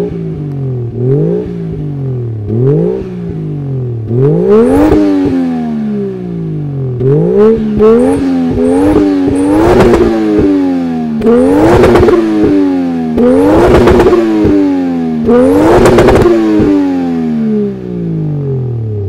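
A Toyota Mark II JZX110 with a 1JZ-GTE turbo straight-six revs repeatedly, each blip rising sharply then falling back to idle, loud and close, with rhythmic throttle stabs building in intensity and no talking.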